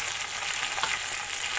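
Peas and tomatoes fry in a pan for an Indian-style achari pulao, giving a dense, continuous close sizzle with no voices.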